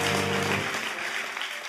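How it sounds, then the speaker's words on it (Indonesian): A church congregation breaks into applause, a dense wash of many hands clapping together, steady and fairly loud for a couple of seconds after a brief tonal lead-in. "Beri tepuk tangan dulu buat gembala"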